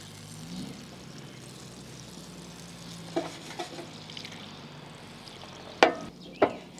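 Fennel dropped into a hot pan with browned bits, giving a low, steady sizzle and frying hiss with a few sharp clatters of utensil on pan near the end.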